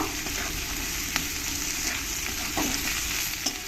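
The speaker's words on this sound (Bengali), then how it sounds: "আলুগুলো দেখো আমি লাল লাল করে ভেজে নিয়েছি আলুগুলো আমার ভাজা হয়ে গেছে আর একটু আমি নাড়িয়ে নেব" Potatoes frying in a pan for a home-cooked rohu fish, ridge gourd and potato curry, a close, steady sizzle broken by scraping stirs.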